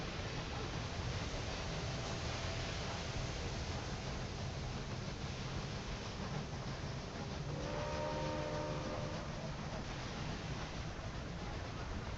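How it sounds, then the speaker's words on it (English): Passenger train passing in the railway management game Railway Empire, a faint steady rumble with a brief tonal whistle partway through, heard alone without talk. "There's the passenger train again."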